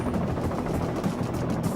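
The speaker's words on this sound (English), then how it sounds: "Most rotor noise is caused by the tips of the helicopter's blades" Military helicopter rotor blades thumping in a steady rapid beat, a loud broadband churn with pulsing low chop running continuously.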